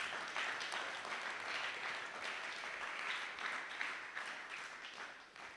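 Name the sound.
church congregation applauding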